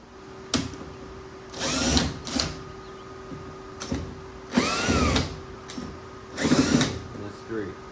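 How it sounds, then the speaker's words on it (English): A power drill backs Phillips screws out of a clothes dryer's panel in three short whirring bursts with pauses between, while a person talks in between the bursts. "there are 3 Phillips screws back here that you need to remove"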